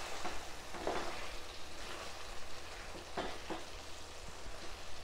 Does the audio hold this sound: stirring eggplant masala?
yes